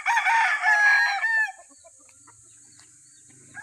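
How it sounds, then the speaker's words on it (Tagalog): Pet rooster crowing once close by, a loud, wavering call of about a second and a half, followed by quiet with faint clucks from the chickens near the end. "Parami na po ng parami ang aking alagang manok"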